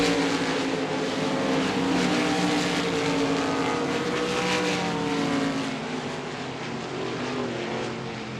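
RaceSaver sprint cars roar around the Devil's Bowl Speedway dirt oval, a sustained, loud engine drone with shifting pitch as the field passes, heard from the stands without talk.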